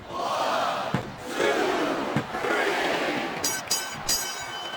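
A large arena crowd in the WWE SmackDown vs Raw 2007 wrestling video game cheers loudly and continuously, with a few sharp impact thuds cutting through the roar.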